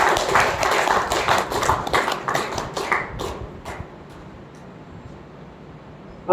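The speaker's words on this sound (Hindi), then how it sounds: "तो जोरदार तालियां होनी चाहिए," An audience at a spiritual discourse seminar claps in a steady, lively burst of sharp hand claps that thins out and fades after a few seconds, leaving quiet room noise.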